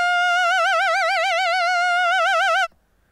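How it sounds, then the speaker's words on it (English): A single sustained synthesizer note for a song part, with the mod wheel slightly open so an LFO gently wobbles pitch and filter cutoff in a steady, fast vibrato, played alone for over two seconds before cutting off. "So when I open up the mod wheel a little bit,"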